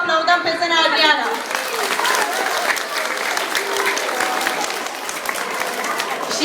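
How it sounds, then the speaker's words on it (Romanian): A studio audience at a children's television show's tenth-anniversary celebration bursts into loud, sustained clapping that fills the room, with a voice speaking briefly at the start over it. "haideți să aplaudăm pe Zâna Adriana!"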